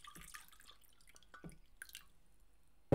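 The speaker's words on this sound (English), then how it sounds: "Good old glass of water." Someone sips from a glass of water up close, with a few quiet wet slurps and swallow clicks, then a sudden bump at the very end.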